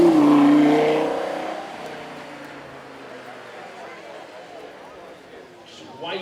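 A Lamborghini Huracán Tecnica's 5.2 litre V10 howls loudly on track at first, then fades into the distance while a commentator talks over it.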